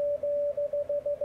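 A Yaesu radio receiver plays through a narrow 100 Hz DSP filter, giving a single clean, steady tone that pulses on and off in a quick rhythmic pattern like a Morse signal, with little background noise.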